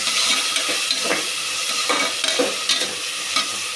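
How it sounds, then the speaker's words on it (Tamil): Chopped onions and tomatoes frying in a pan and stirred with a utensil, giving a steady close sizzle with soft scraping strokes recurring every second or so, no talking. "இதை நல்லா கிண்டி விட்டுக்கலாம்"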